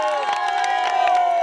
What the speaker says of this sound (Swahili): Hebu tumpigie makofi Dr. John Pombe Magufuli.